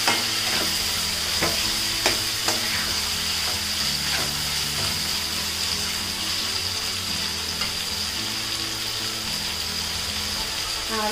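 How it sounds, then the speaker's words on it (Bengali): Beef pieces tossed with spices in a hot pan give a continuous loud frying sizzle, with repeated sharp spatula scrapes and knocks against the metal as the meat is stirred. "মশলার সাথে বিফগুলাকে ভালোভাবে মিশিয়ে দিচ্ছি।"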